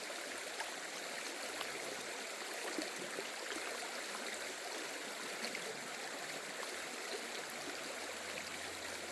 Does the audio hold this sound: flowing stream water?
yes